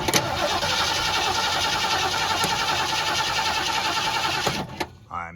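A 1973 Ford Mustang Fastback left rotting in a yard for 30 years cranks over steadily without firing, a loud, even whirring churn that continues for several seconds before cutting off abruptly near the end.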